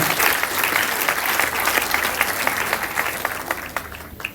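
Guests at a Rwandan traditional wedding ceremony clap in a dense, steady burst of applause that carries on throughout, tapering slightly toward the end.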